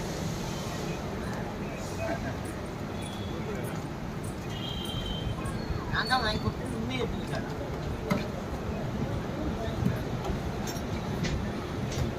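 Nellai Superfast Express train pulling into Mambalam station, with a steady broadband rumble of rolling wheels and carriage noise, occasional clanks and faint squeals, under talk and crowd murmur.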